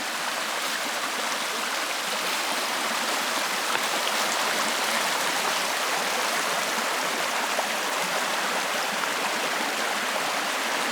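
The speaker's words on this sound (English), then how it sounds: "We have a little stream here" Small stream in the woods of Pennsylvania near the West Branch of Pine Creek, a steady close rush and babble of flowing water, even and continuous throughout with no voices.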